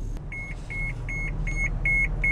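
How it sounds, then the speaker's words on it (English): A car's warning chime beeps steadily, about six evenly spaced tones, over a low engine rumble. "stupid beeping car"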